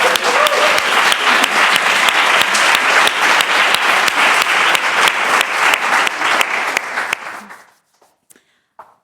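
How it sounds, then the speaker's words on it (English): Conference audience gives sustained loud applause, dense steady clapping for about seven seconds before fading out into near silence with a few stray claps. "give the team that organized this tremendous conference a big round of applause"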